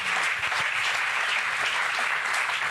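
Continuous studio audience applause on a French television talk show, a dense, steady clapping roar with no gaps.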